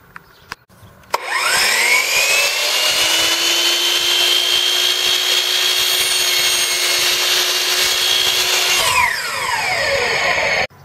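A power drill whines loudly and continuously for about eight seconds after a few clicks, its pitch steady, then winds down to a stop, drilling 5/16 holes in a 6x6 angle bracket.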